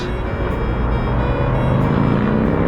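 Road traffic near the High Bridge in New York, a dense continuous rumble of cars close by, steady and fairly loud with no voices.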